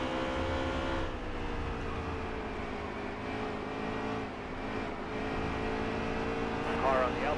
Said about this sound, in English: you can hear me burping the throttle right there